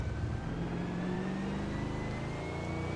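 Race car engines from an online historic sportscar racing sim at Riverside, a steady mid-pitched engine drone with a gradually climbing whine, as if a car holds speed, fairly faint and continuous with no talk.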